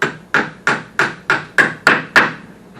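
A brake hose clip is hammered into its bracket with seven sharp, evenly spaced metallic whacks, close and loud, each ringing briefly before the next strike.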